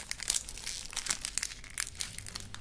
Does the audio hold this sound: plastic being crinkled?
yes